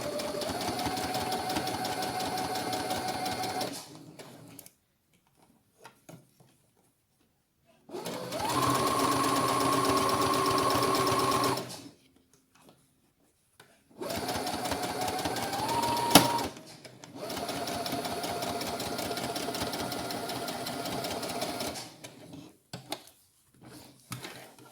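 A sewing machine stitches fabric for a girl's sun hat in three close, steady runs of mechanical whirring, each several seconds long, separated by short pauses with a few faint clicks.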